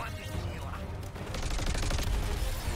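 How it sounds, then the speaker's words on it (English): Dense enemy gunfire from the video game Suicide Squad Kill the Justice League, loud and continuous, with the barrage growing heavier partway through. "I'm getting shot by everything."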